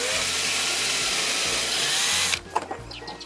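A power drill runs continuously through clamped wood for a squirrel feeder, a steady close whine that stops abruptly, followed by a few light knocks and handling sounds.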